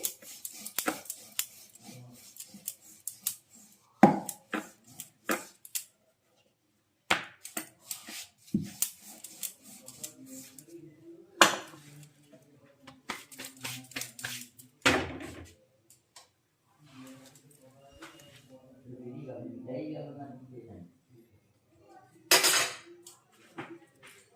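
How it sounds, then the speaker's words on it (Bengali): Roti dough worked with a rolling pin on a board, irregular wooden knocks and clatters between stretches of soft rolling rumble, close, with quiet pauses between bursts. "দেখো আমি এখন রুটিটা বেলে নিচ্ছি"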